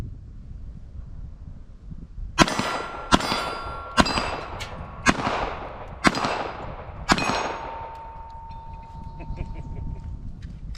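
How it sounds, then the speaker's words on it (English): A double-action/single-action pistol fires six sharp, loud shots at roughly one-second intervals, each ringing out briefly, with wind noise in the background between shots. "So let's load this thing up, take a few shots, and we'll go from there."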